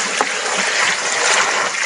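Water flows steadily on a farm with avocado and lanzones trees, a continuous broadband rush close by with no pauses.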